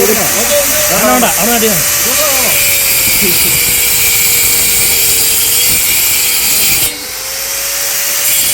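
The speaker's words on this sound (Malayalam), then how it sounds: "കട്ടർ ഉപയോഗിച്ച് കട്ട് ചെയ്തെടുക്കുന്ന പരിപാടിയാണിത്" A power cutter whines steadily through hard bamboo with harsh, hissing noise. A voice speaks briefly at the start, and the cutting eases off near the end.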